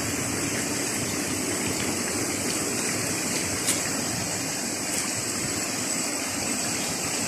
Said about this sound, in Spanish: Esos saltos de agua forman las cascaditas